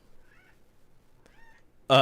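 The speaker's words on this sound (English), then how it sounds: "If she keeps with the meowing, she's going to have to go." A cat meows indoors, several faint, short mewing calls spread through the stretch, with a loud burst of noise at the end.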